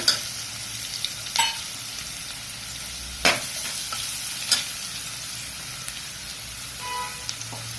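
Garlic sautéing in a pan for capsicum rice, giving a continuous close sizzle broken by a few sharp scrapes and stirs of a spatula, with no voices.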